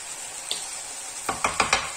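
Aubergines and tomatoes cook in a pan under a constant gentle sizzle while a utensil stirs them, giving a few quick scraping knocks toward the end.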